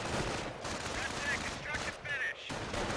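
Sniper and machine gun fire crackle in a strategy video game battle, with rapid bursts of shots over busy combat noise beneath a commentator's voice.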